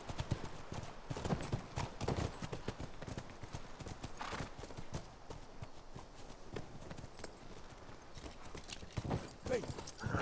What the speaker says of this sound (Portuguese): Voltar lá pro cavalo. Vamos. De volta aos cavalos.